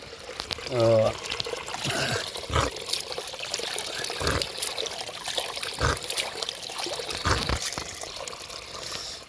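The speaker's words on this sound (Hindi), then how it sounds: "इस तरह पानी बह रहा है।" Stream of water flowing through green countryside, a soft steady trickle and splash running throughout, with someone talking over it.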